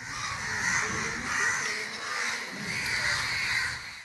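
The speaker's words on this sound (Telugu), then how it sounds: "కాకులు చికెన్ షాపుపై దండెత్తి షాపు చుట్టూ తిరుగుతూ గోల చేస్తూ నిరసన తెలిపాయి" A flock of crows circles a chicken shop, calling loudly and repeatedly in overlapping harsh caws that rise and fall in waves, close by against a noisy outdoor background.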